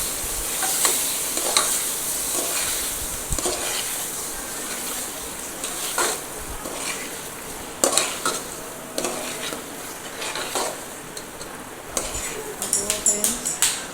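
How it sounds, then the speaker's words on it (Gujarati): Potatoes and peas are stirred in a cooking pan as a spoon scrapes and clinks against the metal over a constant frying sizzle, ending in a quick burst of clattering strokes. "હવે આપણે નાખીશું બટેટા વટાણા એને પણ આપણે બરાબર હલાવી લઈશું"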